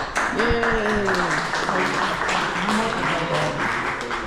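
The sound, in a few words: audience applause at end of Casa Bacardi rum tour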